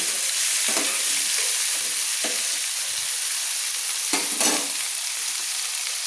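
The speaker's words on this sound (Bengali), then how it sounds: "ফোড়ন দেওয়ার পর আলুগুলো ভেজে নিলেই হবে" Diced potatoes fry in a pan just after the spices are tempered in the oil, giving a steady, loud sizzle broken by a few scraping stirs.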